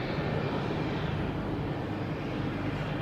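Southwest Boeing 737 jet airliner at Boston Logan airport, a steady broadband engine roar heard from a distance, even and unbroken throughout with no voices.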